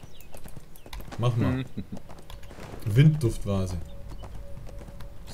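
A horse's hooves clip-clop in the video game ArcheAge in a few short bursts, while someone speaks German over them.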